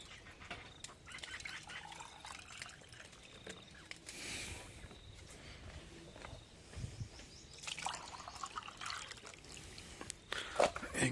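Water poured into clay pots set out for birds, a soft trickling and splashing that comes and goes in brief bursts, close and fairly quiet with no talk.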